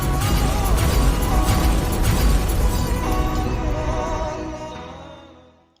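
Grenade explosions in an action movie, a loud sustained roar of blasts and debris rumbling continuously for several seconds before fading out, with no talk.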